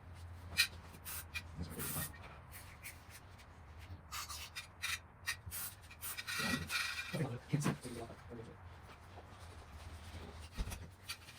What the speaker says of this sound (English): I'm just about done scraping this gasket, all the residue off of here.